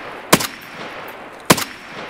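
Two sharp gunshots from an RSASS rifle in the video game Escape From Tarkov, about a second apart, each with a brief crackling tail, against a quiet background.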